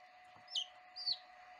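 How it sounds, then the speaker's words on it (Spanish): Two newly hatched chicks cheeping inside a small seven-egg incubator, a pair of short, high, clear peeps about half a second apart over a faint steady machine hum. "Fijaros dos pollitos"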